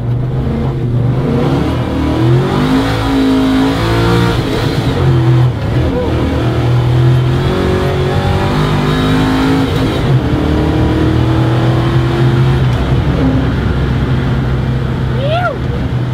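A small-block Chevy V8 with a big bore and short stroke, fitted in a 1966 Beaumont with a Tremec five-speed, runs loud and close. Its low throb rises and falls through repeated revs, and no one speaks over it.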